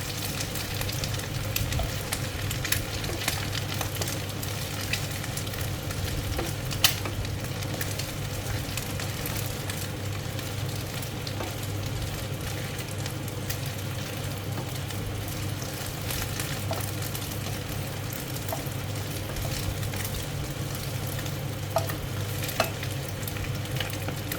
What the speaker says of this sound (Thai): เดี๋ยวทอดให้เหลืองสักหน่อยหนึ่งนะคะ